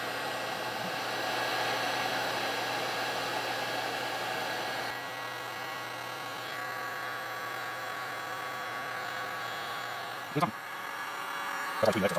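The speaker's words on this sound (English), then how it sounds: "now we're gonna heat gun this bad boy. High heat." A heat gun on high blows steadily over wood burning gel, a continuous close airy roar with a faint hum beneath, the tone shifting slightly midway, then a couple of brief knocks near the end.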